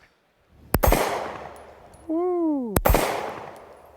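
Two sharp, loud pistol shots from a Smith & Wesson CSX E-Series Enhanced, about two seconds apart and each with a ringing tail, with a brief vocal exclamation between them.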